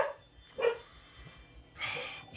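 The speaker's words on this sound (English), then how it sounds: "And my dog's going nuts." A dog barks nearby in a workshop where a 1953 Ford Victoria model car is being painted, giving a few short, loud barks and yelps separated by quiet gaps.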